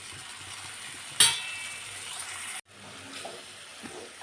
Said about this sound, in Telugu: ఒకసారి బాగా కలుపుకోవాలి. ఇవి బాగా మగ్గిపోవాలి వంకాయలు అనేవి.